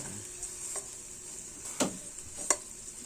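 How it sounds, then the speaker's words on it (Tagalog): Onion and garlic sautéing in a pan, a soft, faint sizzle with a few sharp clicks of the utensil against the pan. "gisahin muna natin guys konting gisa lang"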